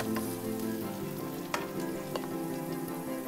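Bay leaves, cinnamon, cloves and cardamom fry with onions in hot oil, making a constant crackling sizzle with a low steady hum beneath and a few sharp pops.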